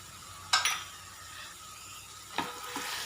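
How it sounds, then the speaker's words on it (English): An onion mixture fries in a pan with homemade wangi bath powder, giving a steady low sizzle broken by two sharp scrapes of a spoon stirring against the metal. "Fry just for a minute or two."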